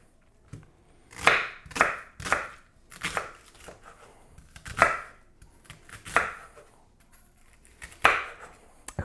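A knife chops onions on a cutting board in about a dozen sharp, uneven knocks, close and clear against a quiet room.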